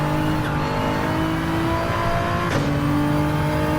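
Race car engine at a Catalunya circuit touring-car race, holding a loud steady drone with sustained tonal whine and a brief shift around midway, continuous and close with no voices.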